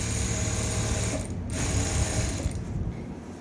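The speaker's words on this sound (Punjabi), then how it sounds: "ਫਿਰ ਆਪਾਂ ਇਹਦੀ ਸਲਾਈ ਲਾਉਣੀ" A sewing machine stitches elastic into a palazzo, running in a fast steady mechanical chatter close by, with brief pauses around the middle and near the end, and no talking.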